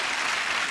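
Studio audience applause on a TV chat show, a dense, steady wash of many hands clapping loudly and close, with no talk over it.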